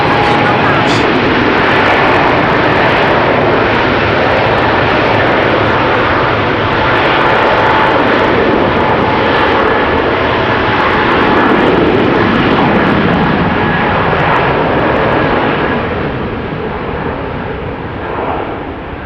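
Garuda Indonesia Boeing 777-300 jet at rainy, wet Amsterdam Schiphol, a loud, close, continuous engine roar that fills the whole span and eases slightly toward the end.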